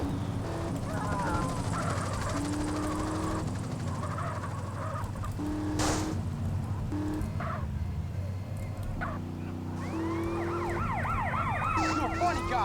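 Wailing police sirens in the GTA San Andreas video game, rising and falling sweeps over a steady engine drone, loud and persistent, with faster overlapping siren sweeps toward the end.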